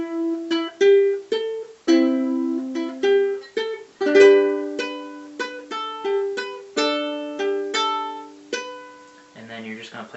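Ukulele picking out the melody of a song, a run of bright plucked notes and chord tones in a steady phrased rhythm, close and clear with no talking.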